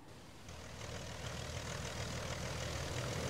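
A Hawker Hurricane's propeller engine starts up in a Roblox flight game, a steady low drone that swells after the first half-second and then holds loud and constant, with no talk.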